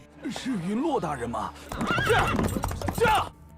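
Horses of mounted city troops in a street, whinnying loudly up close with hoofbeats and a burst of commotion, the neighs dominating the short passage.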